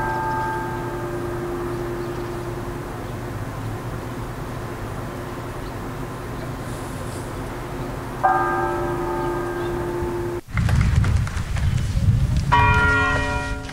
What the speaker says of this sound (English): A bell tolls at the National Civil Rights Museum